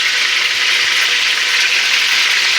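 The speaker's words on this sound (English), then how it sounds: "Alright, so we're just frying some of these guys up." Meatballs fry in an uncrowded pan with a steady, loud, close hiss and crackle that holds without a break.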